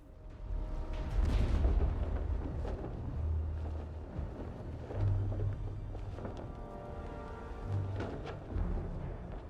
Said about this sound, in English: Yeah, there are explosions happening.